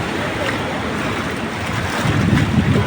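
Continuous sloshing rush of water churned by waves, broad and noisy, swelling slightly louder toward the end.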